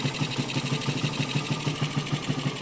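A motorcycle engine idles close by with a steady, rapid putter and an even, mechanical pulse throughout.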